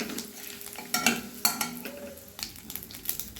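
Bay leaves, dried red chilli and cumin sizzle in hot mustard oil for a tomato fish curry, a soft steady fry under repeated scraping and clinks of a spatula stirring in the pan.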